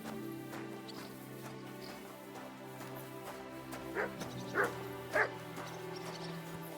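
A dog barks in the video game Kingdom Come: Deliverance 2, a few short yips and woofs at moderate distance that grow more insistent near the end, set over a steady ambient musical drone.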